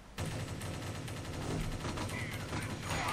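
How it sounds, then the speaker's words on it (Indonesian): Rapid gunfire in the mobile shooter video game Crisis Action, a continuous crackling burst of shots starting abruptly and holding steady at close range. "Di sana ada yang nembakin kita."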